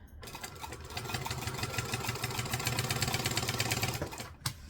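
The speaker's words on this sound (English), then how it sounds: "Stitch, back stitch. Needle down and pivot." A sewing machine runs in a fast steady stitching burst, then reverses for a back stitch during alteration of a garment pattern. The close mechanical chatter stops abruptly near the end with a single clunk.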